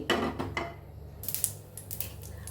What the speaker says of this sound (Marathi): आता या ठिकाणी फोडणी चांगली तडतडीत झालेली आहे